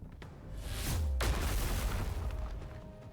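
An enormous explosion as a hammer slams a sphere into the ground in the NIKKE video game: a sharp crack followed by a deep, sustained booming rumble that slowly fades.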